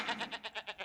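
A goat bleats in a quick run of about seven short, regular pulses, clear and fairly close, with no other sound around it.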